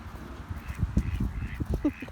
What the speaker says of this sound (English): We got our geese back here. We got our duckies.